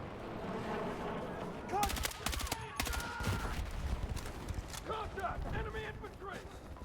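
Bursts of gunfire in the video game Battlefield 6, with several sharp volleys amid game sounds and a voice talking.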